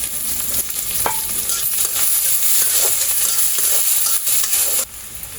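Chopped onion, green chili and garlic fry in a pan with a loud, continuous close-up sizzle, broken by scraping and clinking stirring strokes, with no talking.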